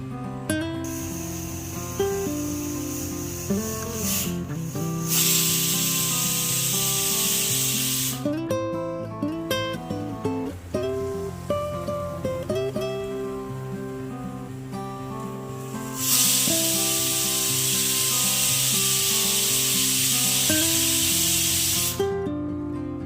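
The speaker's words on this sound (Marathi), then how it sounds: "अशा प्रकारे कुकरच्या दोन शिट्ट्या झालेल्या आपल्याला दिसून येत आहेत" Pressure cooker holding pulses over a high gas flame, two long loud bursts of hissing steam whistle separated by quieter stretches of low rumbling hiss, close and without voices.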